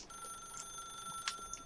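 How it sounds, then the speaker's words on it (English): An office telephone in The Stanley Parable rings with a thin, steady electronic tone, fairly quiet and alone, with no talking over it. "then pick up the phone"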